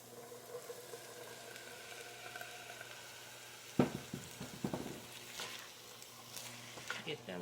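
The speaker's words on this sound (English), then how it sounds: "I'm going to also add them in here to saute." Canned chickpeas go into a pan to sauté in a chickpea stew, with a low steady sizzle, a burst of clattering and stirring midway, and a voice speaking over parts of it.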